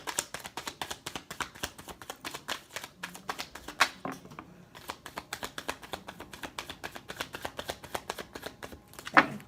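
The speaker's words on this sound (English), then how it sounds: "as soon as I'm done shuffling" Tarot cards are shuffled continuously in a rapid, steady riffle of crisp papery snaps, close and even throughout with no talk.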